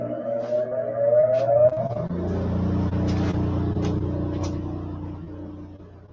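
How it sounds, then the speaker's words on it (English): Power sander used to hand-fit wooden wing ribs, whining and rising in pitch as it spins up, then settling into a steady loud hum with a low rumble, close by with no talk. "Get that sander spun up."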